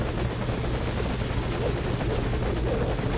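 Morpho helicopter from the Metal Gear Solid V: Ground Zeroes video game, its rotor giving a loud, steady, close drone with a rapid blade chop that runs unbroken throughout, no voices.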